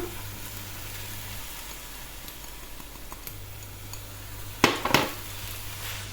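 Pad thai-style konjac noodles are stirred and sizzle in a frying pan. A steady low frying hiss runs throughout, and two sharp utensil scrapes against the pan come near the end.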